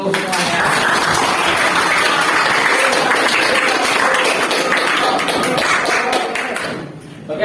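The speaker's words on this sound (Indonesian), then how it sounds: "terima kasih aplaus untuk kelompok 3" A classroom of students applauds for group 3, a dense, steady patter of many hands clapping together at close range, lasting several seconds before tapering off near the end.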